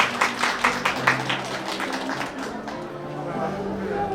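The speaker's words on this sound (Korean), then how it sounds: "두 사람에게 아낌없는 박수 부탁드리도록 하겠습니다." Wedding guests clap for the couple after the cake cutting, a fairly loud burst of applause that fades within a couple of seconds into room murmur and a low sustained tone.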